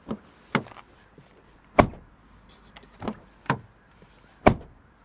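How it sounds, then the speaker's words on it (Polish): Doors of an Omoda 7 plug-in hybrid being shut one after another, six solid thumps spaced about a second apart, close and clear against a quiet background. "posłuchamy, czy drzwi się zamykają z należytą kulturą"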